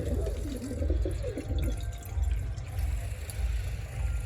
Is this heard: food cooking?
no